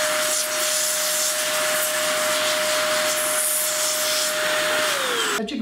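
A Metro DataVac ED500 electric duster blows air with a loud, steady whirring hiss and a constant motor whine that winds down at the end.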